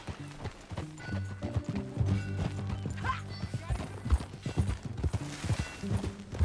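Horse hooves clip-clop steadily in Red Dead Redemption 2, a brisk rhythmic trot of close, hollow knocks with soft creaks and rustles underneath.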